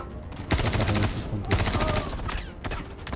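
Bursts of automatic gunfire in a video game, loud overlapping volleys separated by brief pauses, with a few sharper single cracks among them.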